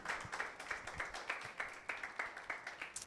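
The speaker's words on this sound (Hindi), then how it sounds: "जोरदार तालियां बजाएं यीशु के लिए।" A Sunday church congregation claps in unison, with evenly spaced rhythmic handclaps repeating about three times a second. The clapping is moderately faint, as if heard from some distance in the hall.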